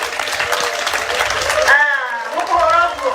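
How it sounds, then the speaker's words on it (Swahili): An audience applauds standing teachers at a public gathering, a burst of dense clapping that gives way to a single voice speaking. "Hebu walimu wetu simameni tuwapigie makofi."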